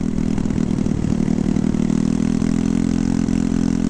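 A Honda Ruckus scooter fitted with 12g rollers runs flat out at about 7,500 RPM near 54 mph, a loud, steady, buzzing engine drone with a constant pitch and no speech.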